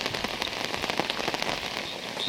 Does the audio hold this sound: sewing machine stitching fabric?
no